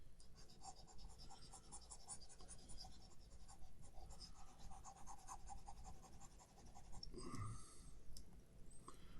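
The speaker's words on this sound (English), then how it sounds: "So we'll erase this over here." Erasing writing on a board gives soft, close scratching and rubbing strokes in a quiet room, with a brief louder scuff near the end.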